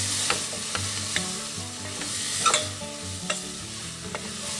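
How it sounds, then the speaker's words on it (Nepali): Green beans with red chilli powder and a pinch of pepper are stirred in a pan, the spatula scraping and clacking in uneven strokes over a constant sizzle, close and clear with no talking. "यसपछि यसलाई राम्रोसँगले हामीले चलाइदिनुपर्छ।"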